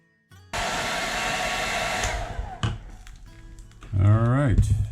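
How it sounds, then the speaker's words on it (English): A hair dryer blows hot air to soften old hot glue on a snow globe under repair. It whirs loudly and steadily for about two seconds, then stops, and clattering handling noises follow. "we're going to use a hair dryer to heat this up, and that will melt the glue"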